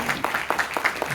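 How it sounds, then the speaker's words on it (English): Small group applauding in a room with a sparse, uneven patter of hand claps, several distinct claps spaced through a brief moment, moderately close. "I think they deserve a much louder round of applause"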